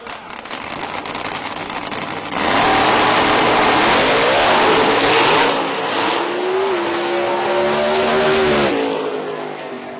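Radial-tire drag race cars roar down a Texas racetrack at the Radial Round-up: a loud engine surges in after a couple of seconds and holds a sustained, rising, revving howl as the car accelerates, with no voices.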